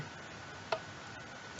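A single soft click of a button pressed in Minecraft on a redstone loop, one brief tick against a quiet background.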